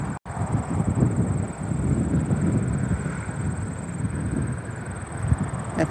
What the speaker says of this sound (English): That's the Delta Embraer going to LaGuardia. E-170 to LaGuardia.